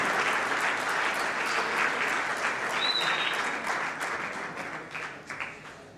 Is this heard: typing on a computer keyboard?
no